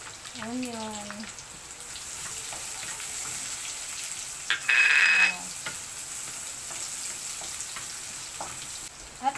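Onion frying in a pan for garlic fried rice, a steady soft sizzle with faint crackle running throughout, while a voice talks briefly near the start and a short electronic beep cuts in midway.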